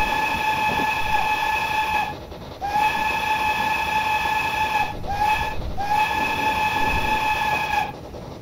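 A steam locomotive running near Smallbrook Junction sounds its whistle in four loud, shrill blasts, each lasting a few seconds with short gaps, over a steady low rumble of the train going past.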